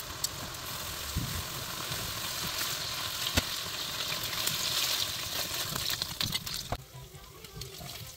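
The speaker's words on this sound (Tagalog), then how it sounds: "Dito, nagpapainit ako ng kawali at pagkatapos ay prituhin na natin yung baka" Marinated beef fries in a hot pan, giving a quiet, continuous sizzle that holds at an even level with faint clicks and shifts as the meat cooks.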